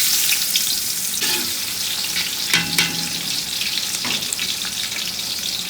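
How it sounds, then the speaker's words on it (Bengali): Lentils (dal) stir-fried in a pot for haleem give a steady, close sizzling hiss, with a few louder scraping stirs partway through. "এখন আমি এখানে ডালটাকে কষিয়ে ডালটাকে সেদ্ধ দেবো"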